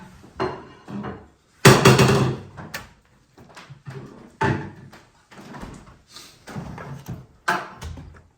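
Vanquish VS4-10 Phoenix bedsides being bolted onto a scale model truck, a series of close thumps, knocks and small clattering handling sounds with irregular pauses, one louder clunk early on.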